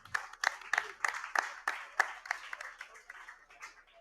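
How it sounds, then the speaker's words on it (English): Scattered hand claps from a small audience at a live talk show taping, a few sharp claps at first, then thinning and fading over several seconds. "So give yourself a round of applause."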